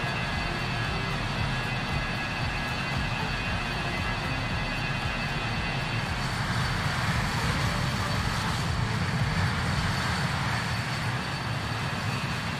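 Aircraft engine running steadily in Microsoft Flight Simulator, a loud constant drone with broadband roar and a persistent tonal whine, unchanging across the whole stretch.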